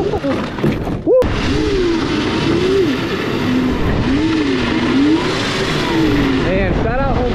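A 100 HP electric drift kart drives with its throttle feathered, its motor whine rising and falling in steady waves over loud, continuous tire and road noise, up close, with speech breaking in briefly.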